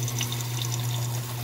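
Water runs steadily into an Electrolux LPR-series top-loading washing machine as it refills to level, a constant low hum and hiss with faint splashing throughout.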